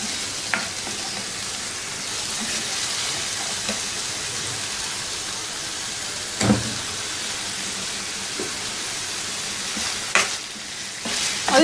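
Chicken fries in a handi with a continuous dense sizzle, like steady rain, broken by a few scraping stirs and pan knocks up close.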